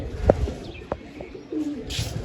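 Pigeons give a few soft coos and brief chirps close by, alone without speech.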